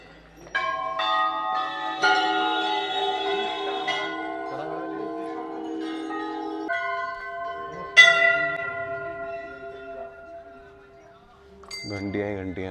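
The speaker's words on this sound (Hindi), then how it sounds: "घंटियाँ ही घंटियाँ भाई।" Many bells ring at the Golu Devta temple in a long run of overlapping metallic strikes with sustained tones. Fresh strikes land every couple of seconds, loud and close, and the ringing decays into a low rumble near the end.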